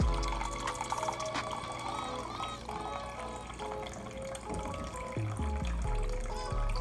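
Water pours and trickles into a measuring cup amid clinks and kitchen clatter, the pitch rising as it fills.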